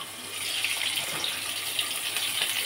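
Pointed gourd being rinsed under a running tap, a steady, close rush of water splashing into a sink that holds constant throughout with no speech.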